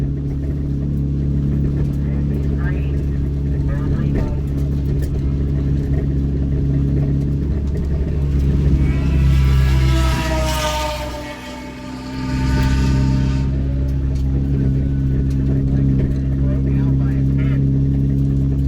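Honda CRX import car running at a drag strip during bracket racing, its engine holding a steady droning idle with a louder revving swell midway, while people talk faintly in the background.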